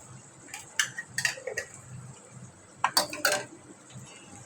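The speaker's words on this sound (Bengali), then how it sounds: "এইভাবে একটু নাড়িয়ে চাড়িয়ে নেব" Tender bottle gourd is stirred in a pan with a spatula, giving a few scattered metallic scrapes and clinks in two short clusters over soft background noise.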